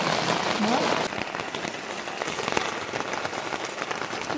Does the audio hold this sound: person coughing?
no